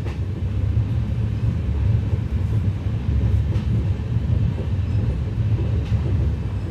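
The Avadh Assam Express rolls into Hajipur Junction with a loud, steady low rumble of wheels and carriages, continuous throughout with faint clanks over the top and no talk.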